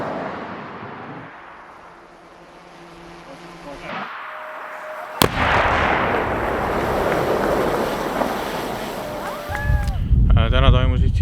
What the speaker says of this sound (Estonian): Täna toimusid siis Spike SR laskmised